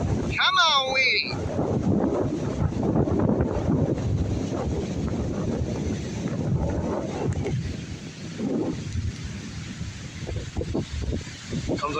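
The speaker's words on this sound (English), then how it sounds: "Comes another strong gust" Strong thunderstorm wind gusts roar steadily against the microphone outdoors, with a brief high whistle-like sound at the start and a person's voice faint beneath the rumble.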